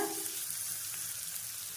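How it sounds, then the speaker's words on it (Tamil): Onions sauté in oil in a pan for a capsicum and green gram kadaiyal, giving a soft, even hiss and sizzle that stays steady and fairly quiet, with no talking. "இப்போ வெங்காயம் வந்து கொஞ்சம் நல்லா வதக்கணும்."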